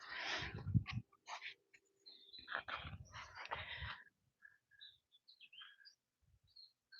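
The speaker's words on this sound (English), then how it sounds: "I don't know if you guys can hear the birds tweeting away." Faint, scattered bird chirps and tweets sound in a quiet setting, with a few soft breathy or rustling noises near the start.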